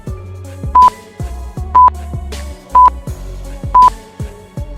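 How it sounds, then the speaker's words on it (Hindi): A quiz countdown timer ticks through repeating tones, four evenly spaced high electronic beeps about a second apart over a low pulsing musical bed, clean and close with no talking. "आपका टाइमर शुरू होता है अब।"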